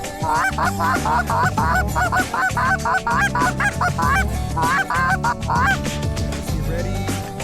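A flock of Canada geese honks loudly and repeatedly overhead, overlapping calls in rapid bursts close by.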